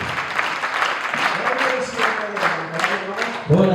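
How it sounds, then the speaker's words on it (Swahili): A church congregation at an anniversary celebration in Tanzania claps for Jesus, steady applause running throughout while a voice speaks and calls out over it. "Tumpatie Yesu makofi"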